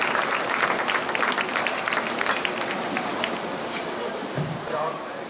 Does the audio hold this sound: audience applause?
yes